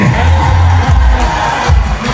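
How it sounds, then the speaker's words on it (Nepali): An audience at a zumba class applauds and cheers, loud crowd noise with whoops and shouts under booming music and a few voices. "जोरदार ताली बजाएर"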